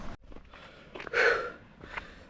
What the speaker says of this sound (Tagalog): Grabe yung hingal ko.